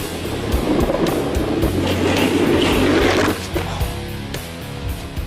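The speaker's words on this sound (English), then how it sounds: "This might be a go-kart" A go-kart drives past with a steady low engine rumble and rolling noise, loud and close, easing off toward the end.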